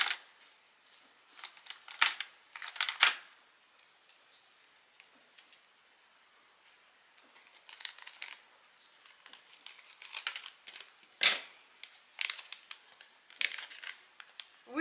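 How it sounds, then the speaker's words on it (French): Scissors cutting open the plastic packaging of an advent calendar: scattered bursts of crinkling and snipping, close and fairly quiet, separated by short pauses. "Ciseaux."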